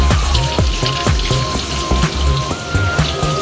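Dirty water drips and splashes steadily from an air conditioner onto a surface, a loud, irregular patter of drops falling close by.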